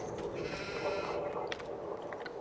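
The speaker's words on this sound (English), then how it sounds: "Oh, Roxy's just noticed sheep." Sheep bleat faintly in Farming Simulator 22 on PS5, a soft, wavering livestock call over a quiet ambient farm background, with a few small clicks and no talking.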